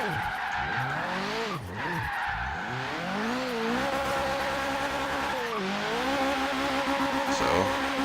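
A car drifting with oversteer in Forza Horizon 3, engine revving and bending in pitch through gear changes while the tires squeal continuously, loud and close over several seconds, without talk.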